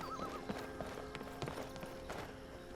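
Horse hooves clip-clop in the Skyrim video game, a steady run of soft, moderately near hoofbeats over a constant ambient background bed, with a faint tonal whinny-like sound early on.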